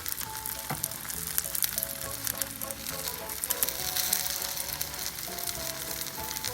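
Stuffed French toast sizzles steadily in a hot pan as the second side cooks, a continuous close frying crackle with scattered sharper pops and a faint utensil clink or two, no voices.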